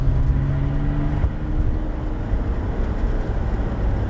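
A Porsche GT3 RS accelerating on a wet race circuit, its engine note rising in a steady strained drone over tyre and road hiss, heard from inside the car with no talking.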